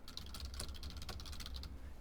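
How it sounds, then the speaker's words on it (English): Typing on a computer keyboard while entering text into a JavaScript notes app, a steady run of quick, light key clicks lasting about two seconds, close and faint with no voices. "So if I click create notes and I start typing"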